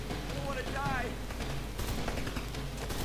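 Rapid gunfire in Rambo: The Video Game, loud bursts crackling through the second half after a brief stretch of voice-like sound at the start.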